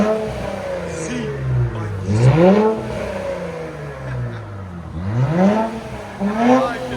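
A straight-piped 2023 Nissan Z with a 3.0L twin-turbo engine revs in repeated rising and falling bursts, loud and raspy, with voices talking in the background.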